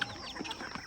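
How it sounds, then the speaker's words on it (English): Small chickens on a Ghanaian farm give soft, quiet clucks in a brief moment as they run about. "The little chickens running back."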